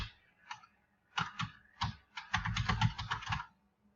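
Keys tapped on a computer keyboard while entering a website address, close and crisp, with short bursts of typing separated by pauses and ending in a faster run of keystrokes.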